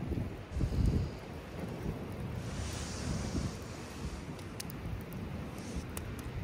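Wind gusting steadily around a hut in a cold forest at night, a broad rushing roar with heavier buffeting near the start, continuous and fairly loud, with no talk.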